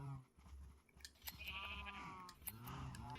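Sheep bleating in a modded Minecraft game world, several short wavering bleats overlapping one another at moderate loudness, with no talking.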